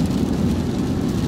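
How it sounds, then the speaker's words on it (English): Rain falling as a steady, dense, broadband hiss with a low rumble underneath, continuous and fairly loud with no voices. "I love this rain."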